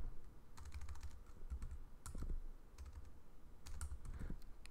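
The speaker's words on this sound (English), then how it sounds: "typing's terrible tonight" Steady clicking of a computer keyboard during a coding session, quick irregular bursts of keystrokes close to the mic over a quiet room, with no talk.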